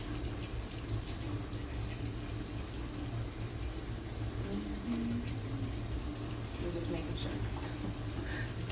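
Water runs steadily into a pressure canner while poultry stock jars are being canned, a continuous low rushing fill sound with a person talking over it.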